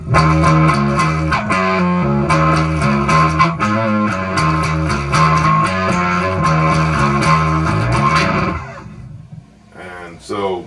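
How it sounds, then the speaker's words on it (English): A bass through an Ampeg SCR DI's scrambler distortion playing a repeated rhythmic riff, heavily distorted, loud and fuzzy, ending abruptly before a short stretch of talking. "So the scrambler's got really crummy distortion as far as I can tell."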